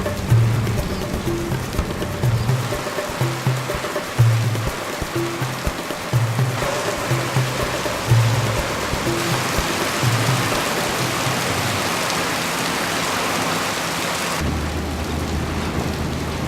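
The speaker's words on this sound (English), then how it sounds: "Dark clouds are packing quickly, temperatures drop by several degrees, and heavy drops start falling, ever faster, ever heavier." Heavy monsoon rain pours down as a storm builds, a dense continuous roar of falling water with repeating low rumbles beneath, loud and unbroken throughout.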